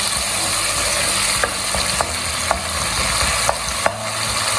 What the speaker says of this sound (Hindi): अब आपने टमाटरों को भूनना है अच्छी तरह से और इनको गलाना है।